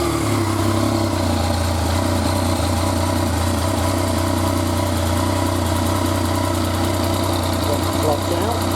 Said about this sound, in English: Lots of noises from the clutch.